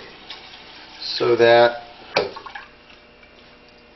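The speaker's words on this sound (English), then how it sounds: "We're going to put in enough water" Water is poured into a pot of raw rice for a shrimp stir fry with rice: one short splashing pour of about half a second, then a brief clink, with a person speaking quietly nearby.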